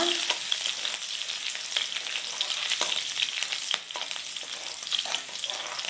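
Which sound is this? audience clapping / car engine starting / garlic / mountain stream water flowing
garlic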